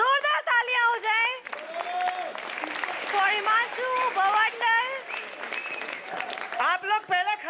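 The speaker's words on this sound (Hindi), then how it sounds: "जोरदार तालियां हो जाए।" Audience applause at a stage event in a hall, with clapping running under someone speaking loudly over the crowd throughout.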